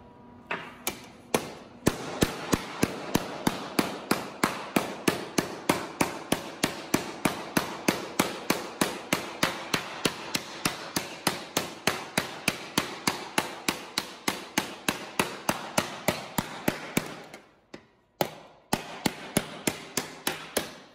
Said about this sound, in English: And then I have a beater bag here, a polyhammer.